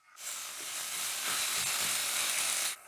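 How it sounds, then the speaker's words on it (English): Ground meat frying in a pan gives off a steady, loud, broad hiss that starts abruptly, holds for over two seconds and cuts off sharply. "Now let's let the meat fry well."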